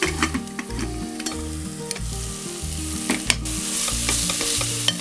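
Onion and a cup of finely chopped large tomato sizzle and fry in a pan for Kochi-style meat rice, a steady close crackle with rhythmic stirring scrapes and no voices.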